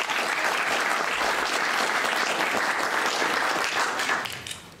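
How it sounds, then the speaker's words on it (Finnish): A crowd applauds steadily and fairly loudly, the clapping holding for several seconds before tapering off at the end. "voitaisiin ottaa sille ehkä pienet aplodit tässä vaiheessa"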